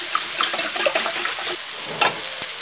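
Liquid cream being mixed into a preparation, a close, continuous wet swishing and scraping with soft irregular clicks of the utensil against the bowl.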